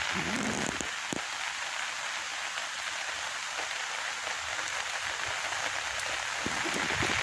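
A continuous downpour of monsoon rain drums over a Konkan village, a close, unbroken wash of drops with a few sharper splats on nearby surfaces.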